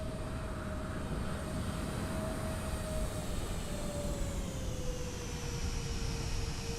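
Airbus airliner engines in a Microsoft Flight Simulator landing, a steady jet whine and rushing roar held at an even level throughout, with a tone slowly sliding lower.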